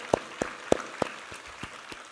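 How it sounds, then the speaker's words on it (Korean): Scattered congregation clapping in a church after a Sunday sermon, about eight sharp separate claps spread over two seconds, sparse and uneven rather than a full ovation. "우리 하나님께 감사와 영광의 박수 올려드리겠습니다."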